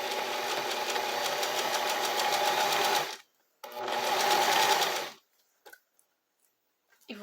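A domestic sewing machine finishing the edge of knit fabric with an overlock-style stitch, two close runs of rapid mechanical stitching separated by a short pause, then silence with faint clicks.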